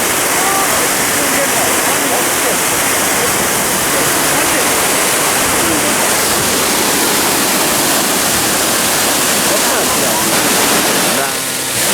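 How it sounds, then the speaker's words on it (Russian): Shaki waterfall in Armenia roars as a steady, loud, dense rush of falling water that fills the whole span, with people talking and exclaiming faintly beneath it. "Водопад Шахи."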